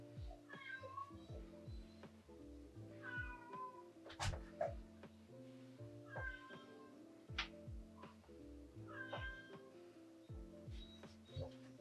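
A cat meows again and again, about every two seconds, with drawn-out, rising and falling cries heard faintly over soft background music.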